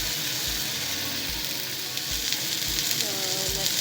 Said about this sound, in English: I'm gonna add that onto the pan to cook them